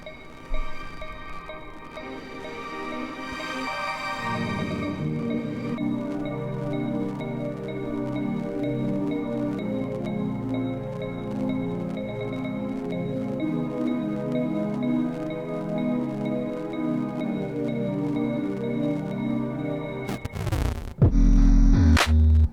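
A warm synth plays a slow chord progression, sustained pads shifting steadily, moderately quiet, ending with a brief burst of noise.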